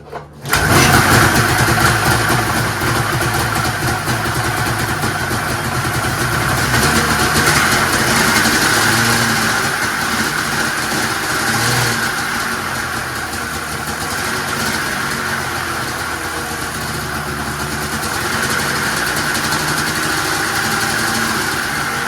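A Ski-Doo Bombardier snowmobile with a Rotax Formula MX engine catches at once after a pull start and settles into a steady, loud, continuous idle with slight swells in revs, close by and running alone without talk.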